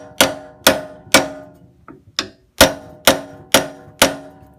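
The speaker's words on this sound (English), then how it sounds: "I'm going to put the pry bar across it and then pound down just to make sure that" A hammer strikes a pry bar laid across a weight plate part on VBX Wellness exercise equipment to seat it, eight sharp metallic blows in a steady rhythm with a softer tap in the middle, close and loud.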